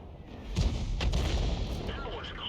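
Heavy tank cannon shots in the World of Tanks battle game, including an Object 261 firing: two booming blasts close together over steady battle rumble and engine drone.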